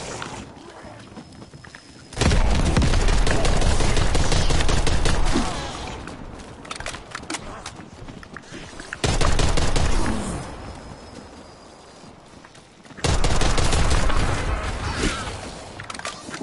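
Tactical rifle fire in a zombies shooter comes in three loud sustained volleys separated by quieter gaps, rapid close shots ringing out in dense bursts.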